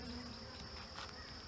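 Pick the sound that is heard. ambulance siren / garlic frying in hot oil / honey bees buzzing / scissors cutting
honey bees buzzing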